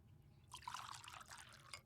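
Water poured into a small dish, a steady splashing trickle that begins about halfway through and runs close and clear to the end, with no talking over it.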